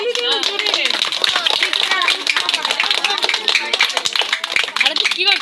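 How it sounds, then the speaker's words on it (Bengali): A crowd claps at a children's drawing competition prize-giving, a dense, steady patter of many hands that runs the whole time, with voices mixed in. "সবাই হাততালি দিন জোরে।"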